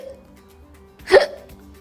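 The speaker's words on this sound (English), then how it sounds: "Boltu hiccups." A single short hiccup, close and clear, rising out of a quiet background with a soft low hum.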